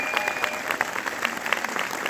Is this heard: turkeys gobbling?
no